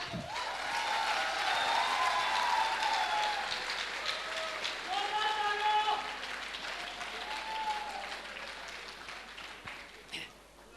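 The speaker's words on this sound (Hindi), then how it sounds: "एक जोरदार ताली के साथ।" An audience at a Safe Shop business recognition event breaks into loud, sustained applause that swells for several seconds and then tapers off, with a voice and some tones rising over the clapping.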